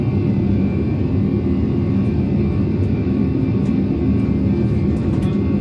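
Aircraft on a takeoff roll in a flight simulator, a steady loud broadband engine roar with low rumble that holds constant throughout, no speech over it.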